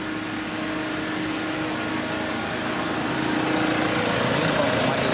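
A Jeep Compass that was flood-damaged runs after a fuel pump replacement, its engine giving a steady, even hum that holds at a constant level throughout.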